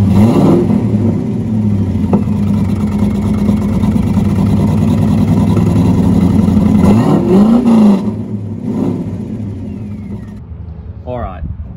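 A loud, deep engine rumble from the side exhausts of a Mad Max Interceptor Pursuit Special idles and burbles steadily at close range, then fades slightly as a brief voice comes in at the end.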